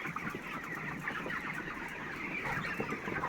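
Chickens in a poultry shed during winter cluck steadily, many birds overlapping into a busy, moderately faint chorus with no talk.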